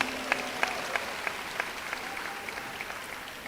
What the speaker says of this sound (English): Let's give Dr. Larry Robinson another round of applause.